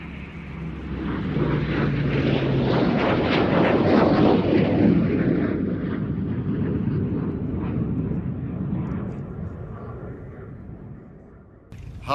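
An OV-10 Bronco twin-propeller aircraft passes during a flying display, its loud droning roar building to a peak and then fading away, with a brief sharp noise at the end.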